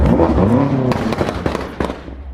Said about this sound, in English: It appears everybody's starting their engines up.